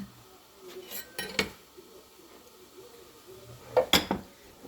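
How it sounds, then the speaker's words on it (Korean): A dirty metal cooking pot with a blackened bottom is cleaned in a home kitchen, giving a few sharp clinks and short scraping clatters, close and fairly quiet, with quiet gaps between them and no talking. "냄비가 너무 더러워서 이렇게 좀 닦고 있었습니다."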